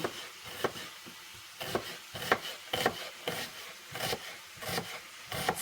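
Knife cutting onions into half rings on a wooden board, a series of close, crisp chopping knocks in an uneven rhythm, roughly a dozen cuts.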